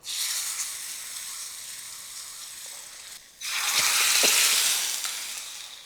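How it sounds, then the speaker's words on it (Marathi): A hot tadka of asafoetida, fenugreek seeds and turmeric hits a bowl of curd rice and bursts into loud, close sizzling. A steady frying hiss plays before it, then briefly drops to near silence. "आता हा तडका यामध्ये घालू."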